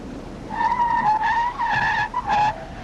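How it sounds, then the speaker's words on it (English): A car brakes hard and turns on a pylon driving-test course, its tires squealing loudly in a long sustained screech with a couple of shifts in pitch, close by and with no talking. "When a red light flashes, the driver must brake and decide which way to turn."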